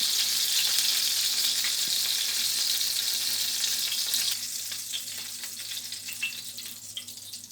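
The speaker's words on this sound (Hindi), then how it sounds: "ये अभी कबाब फ्राई हो रहे हैं, बिल्कुल धीमी आंच में फ्राई करना है।" Pakistani chapli kebabs frying gently over low heat in a pan make a continuous close sizzle that softens noticeably partway through, with no talking.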